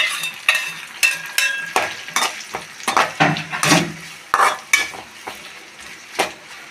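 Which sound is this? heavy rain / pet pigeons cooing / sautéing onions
sautéing onions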